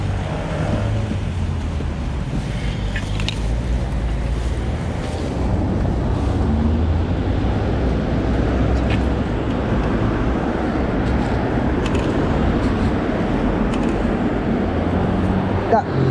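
Road traffic passes steadily at Twickenham, a continuous broadband rush of tyres and engines with several vehicles going by, and occasional faint clicks on top of the roar.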